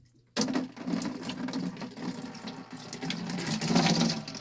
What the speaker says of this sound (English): we'll pour the water from the cartridge into the bucket